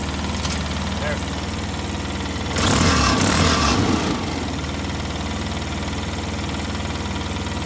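A 2005 Polaris Ranger XP 700 engine idles steadily at close range with a constant low hum, briefly louder and rougher for about a second and a half partway through.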